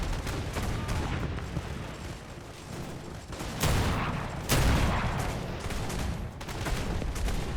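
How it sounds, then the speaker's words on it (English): Airship howitzers firing in Airships: Conquer the Skies, a steady rumbling cannonade punctuated by several big, sharp booming blasts, loud and close, with no talking. "Methuselah's big howitzers will break right through that."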